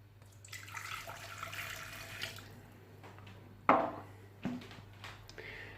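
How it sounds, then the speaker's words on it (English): Water and sugar being added to a pot on a kitchen hob, a soft pouring rush for a few seconds followed by two sharp knocks of the pot or container. "we're just going to basically chuck in our water and our sugar"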